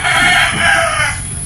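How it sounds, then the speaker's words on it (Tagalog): A stray chicken crows loudly and close by in a sustained, drawn-out call on a rural plot with durian trees, standing alone without any talk. "May naligaw na manok."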